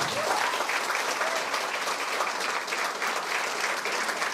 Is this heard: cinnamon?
no